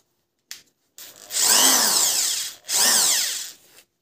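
A Makita power drill runs in two close, loud bursts, its motor whine rising as it spins up and falling away as it stops, with a short gap between the runs.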